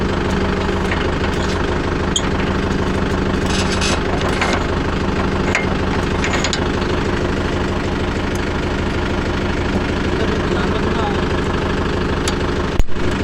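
Mahindra Yuvo Tech Plus 585 4WD shuttle tractor engine idling in a field, a steady loud diesel chug with even knocking rhythm throughout, voices faintly audible over it.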